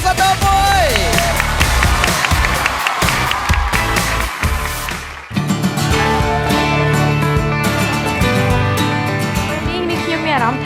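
Audience applause and cheering erupt at a televised singing competition, dense clapping over music, with a short lull midway before the crowd noise swells again.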